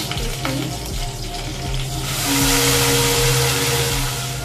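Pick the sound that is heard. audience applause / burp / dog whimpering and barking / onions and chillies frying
onions and chillies frying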